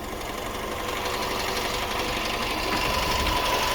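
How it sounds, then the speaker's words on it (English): A Fiat 500 with a 1.2 engine idles nearby, a steady even mechanical hum and rapid ticking chatter that holds constant for the whole stretch. "I'm running the engine for a couple of reasons."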